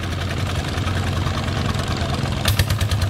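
A farm tractor built on a Siam frame, converted for puddling rice paddies, runs in second gear with a steady low diesel chug, close and continuous, with a rougher rattling burst near the end.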